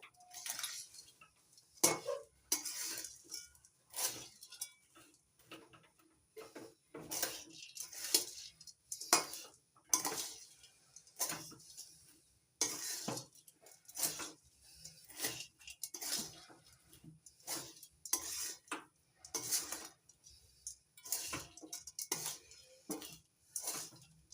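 Flattened rice fried earlier is stirred with jaggery in a pan over very low heat, producing a quiet series of rhythmic spatula scrapes and clinks against the metal, separated by brief pauses.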